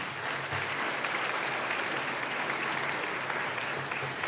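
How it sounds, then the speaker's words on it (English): A school formal assembly audience in Massillon gives a steady round of applause for the people who keep things running; dense, even clapping from a large crowd, sustained at a moderate level throughout. "So please give a round of applause to all those people."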